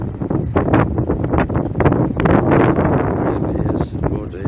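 Gusty wind buffeting an outdoor microphone near a stately old building, a continuous low rumble with loud rising and falling surges throughout, a voice partly heard under the roar.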